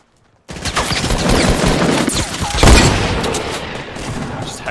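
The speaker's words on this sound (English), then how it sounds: "Just headshot the dude for 14." Rapid bursts of gunfire from the Fortnite video game, loud and dense, with a heavier shot near the middle during a headshot, filling the clip after a brief silence.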